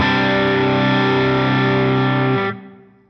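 Electric guitar played through two separate, parallel Line 6 Helix amp paths, loud sustained distorted chords with chorus-like effects ringing out for over two seconds before the sound cuts and decays.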